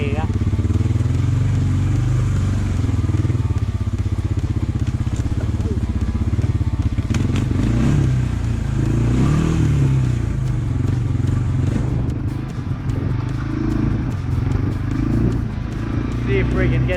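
Honda 300 4x4 ATV engine labouring loud and close while rock crawling and climbing a hill, a steady chugging drone with rattles and clatter from the terrain, voices breaking in over it now and then.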